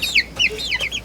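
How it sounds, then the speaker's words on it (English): Farm chickens cluck and chatter nearby while grabbing a worm: a short burst of several quick, close clucks with no talking. "These chickens ain't used to it."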